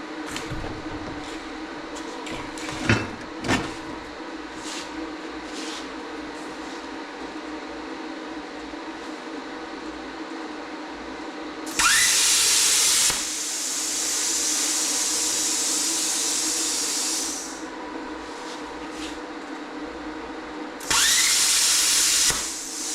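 Bestarc BTC800DP 9th Gen plasma cutter cutting metal at 20 amps, two bursts of loud, steady high hiss, the first about six seconds long, the second shorter, over a humming background with a few clanks before.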